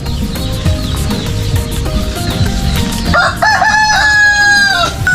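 A tethered gamecock crows loudly and close by in the second half, following a stretch of clucking and other farmyard bird noise.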